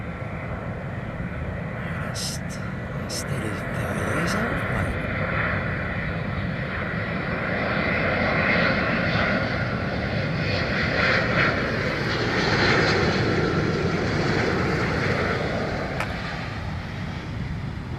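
A British Airways Boeing 777 lands at London Heathrow with a sustained, loud jet roar that swells and fades over many seconds, while people talk over it.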